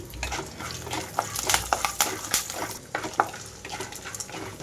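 Green chillies frying in hot oil in a pan with other snack ingredients, a soft sizzle under irregular clinks and scrapes of a spoon stirring, fairly faint and close.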